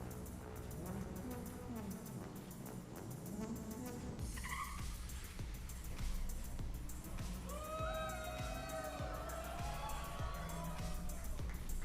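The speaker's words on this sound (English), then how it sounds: "Tesla truck beats a Porsche while towing a Porsche." A Tesla truck racing a Porsche while towing another Porsche, heard as car engines rising and falling in pitch, tire squeals and crowd noise, fairly distant and mixed, with a voice talking partway through.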